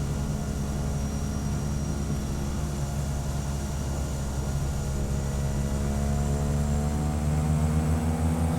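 Steady drone of an airplane engine in a flight simulator, a constant propeller hum with layered tonal bands holding level throughout, no talking.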